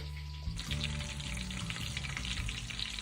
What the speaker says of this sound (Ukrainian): Зі всіх боків обсмажилося.